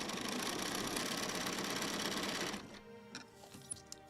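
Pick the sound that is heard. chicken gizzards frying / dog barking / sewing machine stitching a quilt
sewing machine stitching a quilt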